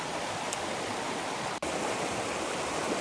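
A river at Pfeiffer Big Sur State Park flows with a steady, broad rushing wash, continuous and fairly close, with no voices over it.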